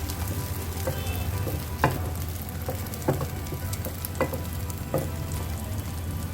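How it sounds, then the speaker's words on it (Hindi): Beaten egg mixture for a breakfast burrito sizzles steadily in a hot frying pan, a close continuous crackle with a few louder spatters and scraping stirs along the way. "अब हमने जो मिक्सचर बनाया है इसको हम आधा इसके अंदर डालते हैं।"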